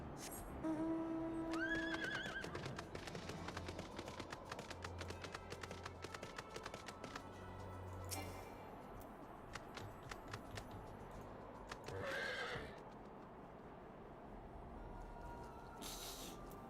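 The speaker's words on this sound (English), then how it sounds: "We can do this on my horse." A horse in a video game lets out a few short neighs and whinnies early on, then quieter game sounds and light taps follow, with no talking.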